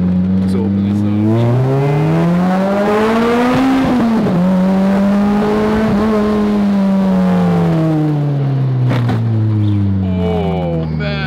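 A 2024 Lamborghini Revuelto accelerating hard, its engine note soaring and dipping through gear changes in a loud, close howl lasting several seconds, with people talking over parts of it.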